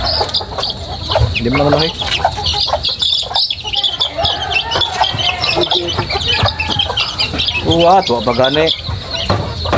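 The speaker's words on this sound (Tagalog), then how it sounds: "Napalibutan ka ng mga manok." Pet chickens crowd around fresh papaya at feeding time, clucking loudly and continuously close by, with a rooster-like call among them, while people talk over the flock.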